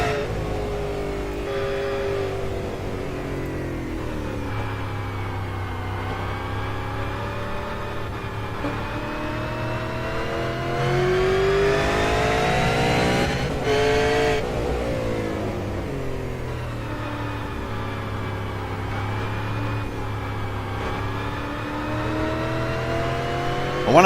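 Onboard race car engine, a small car with a lot of horsepower, droning loud and steady as revs climb and fall through shifts, continuous throughout.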